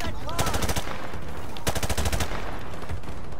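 Rapid automatic gunfire in Call of Duty Modern Warfare Remastered, with two loud bursts of fast repeated shots about a second apart and a game soundscape underneath.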